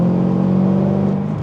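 A Corvette ZR1 engine revs and pulls hard under acceleration, a loud, close, steady mid-pitched drone from inside the car that rises slightly and then eases off at the end.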